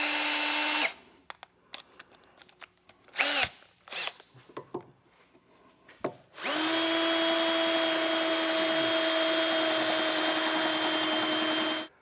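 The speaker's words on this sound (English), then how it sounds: "So go ahead, get that drilled out just like we did on the other hole." A power drill bores a hole in the frame of a 2021 Ford Transit van during a trailer hitch installation. A short burst of drilling comes first, then clanks and handling noises, then a long loud continuous run of the drill to the end.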